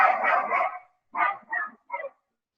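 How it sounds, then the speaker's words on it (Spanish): A dog barks alone in a few sharp bursts: one longer rough volley, then three short separate barks, fairly close and moderately loud. "no sé qué perro se enojó"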